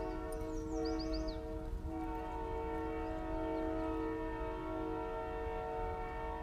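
A train passes at a distance and sounds a sustained horn, a steady harmonic tone over a low rumble of rolling wagons, fairly quiet overall.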